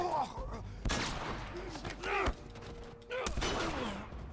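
Shotgun blasts in The Last of Us multiplayer: a few loud, sharp booms spaced a second or so apart, with mechanical game sounds and overlapping voices around them.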